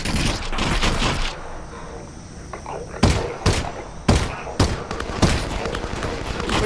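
Gunfire from a machine gun enemy in Half-Life: Alyx: sharp, loud bursts of shots cracking out in a ragged rhythm after a quieter stretch of background game noise.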